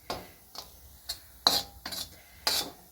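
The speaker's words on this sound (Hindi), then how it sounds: "बेसन भून लेंगे पहले" Gram flour (besan) roasts in ghee while a spoon stirs and scrapes the pan, six soft separate scraping strokes at an uneven pace over faint background, close by with no talking.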